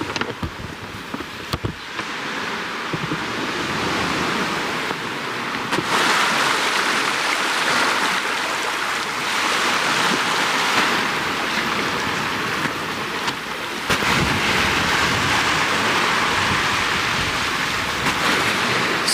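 Sea waves wash onto a shore as the tide comes in, a loud continuous roar of surf with broad swells rising and falling, close by, with no talking over it.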